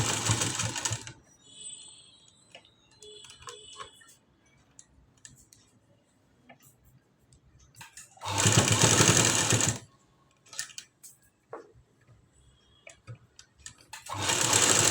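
An electric sewing machine stitches hooks and buttonholes onto cloth in three loud bursts of rapid whirring, at the start, in the middle and at the end, with quiet handling of the fabric between them.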